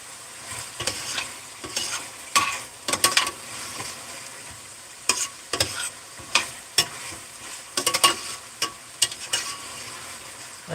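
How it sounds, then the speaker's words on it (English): Chicken fries in a spiced mixture for pulao while a utensil stirs and scrapes the pan in repeated sharp clatters over a continuous sizzle, close and fairly loud, with no speech. "frying the chicken and cooking the chicken well into this mixture"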